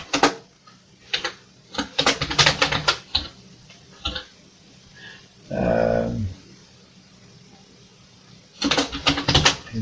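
Typing on a Commodore VIC-20 home computer keyboard: bursts of quick, close, clacky keystrokes in irregular runs, broken by a pause with a short spoken passage, then another fast flurry of keys.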